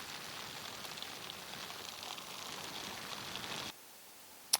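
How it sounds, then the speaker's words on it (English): Steady rain falls for two days straight in Singapore, heard as an even, dense wash of hiss that ends abruptly near the end, followed by a short quiet gap and a brief sharp tap. "it's been raining for 2 days straight"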